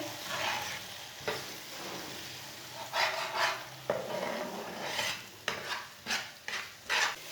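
A spoon stirring eggs and green peas in a hot pan, soft sizzling frying under intermittent scraping strokes against the metal, close and fairly quiet.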